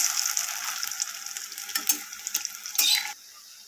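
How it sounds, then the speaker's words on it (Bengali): Cabbage fritters (bora) fry in hot oil as they are turned, giving a quiet, steady hissing sizzle with a few sharper crackles before it suddenly drops away. "আমি বড়াগুলোকে ভালোভাবে উল্টে পাল্টে লাল লাল করে ভেজে নেব"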